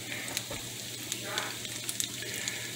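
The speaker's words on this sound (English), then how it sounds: "I'm gonna pour in some eggs." Eggs poured into a pan of cooked pork chorizo fry with a steady, close sizzle and crackle, broken by small spatter pops, with no talk over it.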